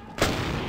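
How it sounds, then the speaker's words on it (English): A single gunshot crack in Vampire The Masquerade: Bloodlines, a sharp sudden burst followed by a brief rumbling tail, fairly close and isolated. "I think someone's trying to shoot at me."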